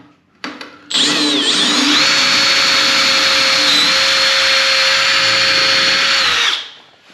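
A power drill fitted with a cheap tile drill bit bores into tile during a shower screen installation, a loud, steady high-pitched whine grinding continuously for about five and a half seconds before spinning down.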